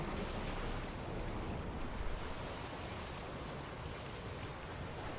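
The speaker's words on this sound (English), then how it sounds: "I like the splashing on the camera lens." Ocean waves from The Witcher 3 roll and wash steadily, a soft, continuous surf-and-wind rush with no distinct breaks, faint and even throughout.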